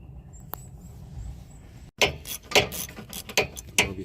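A ratchet wrench works the 17 mm rear brake caliper bracket bolts on a 2016 Toyota Camry 2.5 SE: after a quiet start, several quick bursts of close, sharp clicking arrive in uneven spurts.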